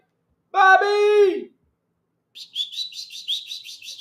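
A man imitates a bird call with his voice, first one long wavering whistle-like cry, then after a pause a quick series of short, high chirping notes.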